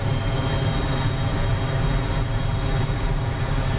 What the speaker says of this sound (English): The engine is just about to finish. Right, so it's finished starting